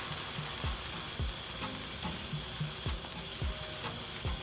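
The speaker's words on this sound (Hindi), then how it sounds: "अब मैं इसके बाद डालने वाली हूँ इसके अंदर उतनी ही अदरक। इसको हल्का सा फ्राई करूंगी।" Ginger frying with golden-browned onions in oil for chicken biryani: a soft, steady sizzle broken by regular scraping strokes of a spoon against the pan, close and fairly quiet.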